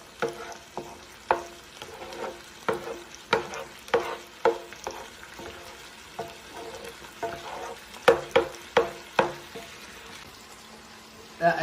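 Eggs are scrambled in a hot pan for chicken fried rice: a soft sizzle under a steady run of sharp spatula taps and scrapes, repeating every second or so at close range.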